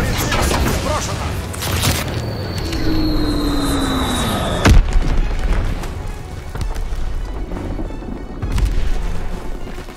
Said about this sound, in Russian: Бомба Фриц-Икс сброшена!